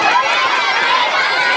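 A crowd at a live fan event in Mallorca applauds loudly and continuously, a thick close wash of many hands clapping throughout the short burst with no clear voices over it.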